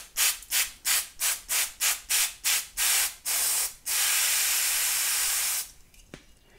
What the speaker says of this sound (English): So I'll spray it in from the other direction.